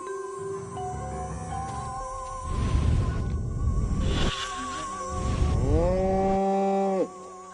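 A cow lets out two long, deep moos in the alien video game Destroy All Humans, each drawn-out call swelling then fading, with sustained tonal game music underneath and a rising electronic tone at the end.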